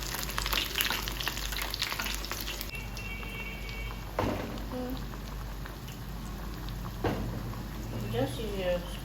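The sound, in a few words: plantain frying in oil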